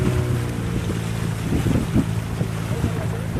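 A motorboat carries passengers on the sea off Palolem beach, its steady engine drone running throughout with gusting wind buffeting the microphone and water splashing against the hull.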